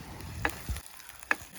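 Ground ginger, garlic and pepper sautéing in a pan, a soft steady sizzle with a couple of faint clinks from stirring, no voices.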